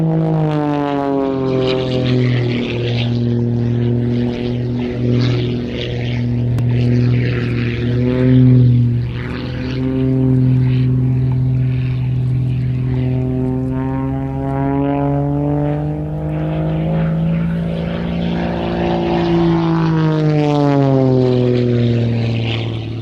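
A propeller-driven aerobatic plane performs at an air show, its engine droning loud and steady for the whole stretch with rising and falling pitch as it maneuvers.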